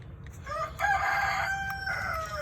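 Chickens, Brahmas among them, calling in the early morning dark, with a rooster crowing across the whole stretch over a low steady rumble; the calls sound fairly close and moderately loud, and no one speaks.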